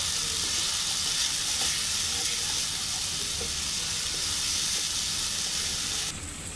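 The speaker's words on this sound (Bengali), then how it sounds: "এখন সব মশলা একত্রে কষিয়ে নেব" Spices with mustard paste, cumin and ginger paste frying together in a pan for a Bengali puishak dish, a dense, steady close-up sizzle and hiss with faint stirring, continuous throughout.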